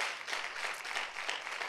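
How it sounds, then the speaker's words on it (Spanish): A church congregation applauding the Lord, a dense, even patter of many hands clapping at a fairly faint level for a short stretch, with no voices over it. "Dale un aplauso al Señor duro."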